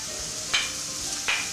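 Onion frying in oil in a pan over a fire, a steady soft hiss with two brief louder crackles, close and alone.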